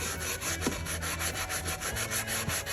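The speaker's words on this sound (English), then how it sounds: "So I switched to using a sanding block, which was much more time consuming, but gave me a lot more control." A sanding block rubs by hand across a wood-burned tiki sign in steady back-and-forth strokes, close and rhythmic, with no voices.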